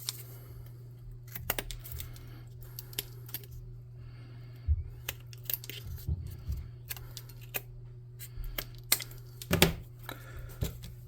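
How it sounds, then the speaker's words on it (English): Scissors snipping popsicle sticks for a cheap tabletop-game telegraph office model, a scattering of quiet, close clicks and snips at irregular intervals over a steady low hum. "I'll snip this with the scissors twice"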